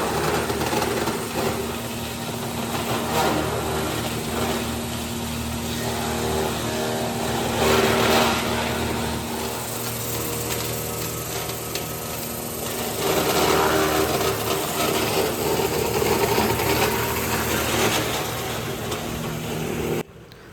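A hammer crusher breaks pine wood into sawdust, making a steady, dense mechanical roar and rattle that runs continuously with little change in level.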